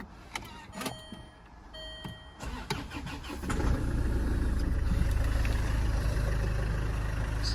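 A Land Rover Freelander 2 is started: a few clicks and whirs of the starter, then the engine catches and settles into a steady, close idle hum.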